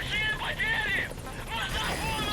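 A helicopter in the video game Metal Gear Solid V arrives with a steady rotor thrum and engine whine under nearby talking.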